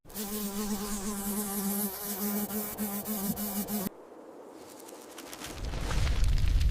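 Buzzing insects like flies and bees drone loudly with a steady, wavering hum that breaks off sharply after about four seconds, followed by a low rumbling boom that swells toward the end.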